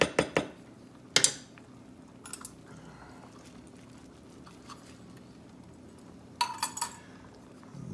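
Grated parmesan cheese mixed into mushroom pasta produces a few close clinks and scrapes of a utensil against the pan in short clusters, with soft squishing between them over a quiet kitchen background.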